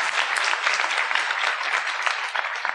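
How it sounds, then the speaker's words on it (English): A convention crowd at a New York Comic Con science-fiction panel breaks into brief, lively applause, close and full-bodied clapping filling the moment with no talk over it. "let's give that a little applause there."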